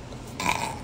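A single loud, rough burp that lasts under a second, from someone playing Minecraft, rising over a low background hum.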